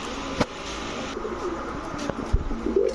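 Pigeons of red Chulli and black Musaldom breeds cooing softly nearby, low murmuring calls with a few faint flutters and knocks in the background.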